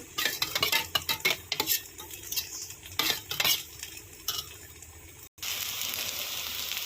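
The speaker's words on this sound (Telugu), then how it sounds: "పెరుగు చక్కగా ఇలా ఇలా కొట్టుకోవాలి" A spoon beats curd in a bowl for a brinjal curd curry: a run of quick, uneven clinks and scrapes, close and fairly loud, ending in a steadier, continuous swishing.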